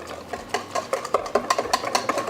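A spoon clinks steadily against a bowl while stirring a rub and sauce mixture together for smoked chicken halves, giving a quiet, quickening series of light taps.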